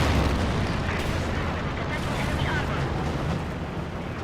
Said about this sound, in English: We do have something being called on in. Looks like a strafing run.